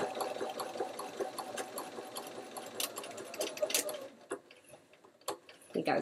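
Sewing machine stitching a quilt block, running in a fast steady chatter of needle strokes up close, then slowing and pausing briefly before starting again, with someone talking over it.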